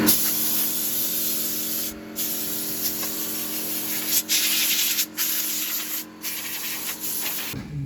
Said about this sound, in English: just using compressed air to blow out that interior was crazy.